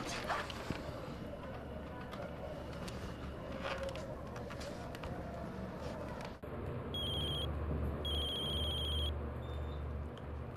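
A telephone rings during a call, its electronic tone repeating in two or three short bursts over a steady background of room noise and murmur, moderately loud near the end.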